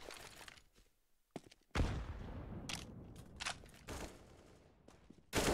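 Counter-Strike AK rifle gunfire on the Icebox map: sharp bursts of automatic fire arrive in separate sprays with quiet gaps between them, some loud and close, others fainter.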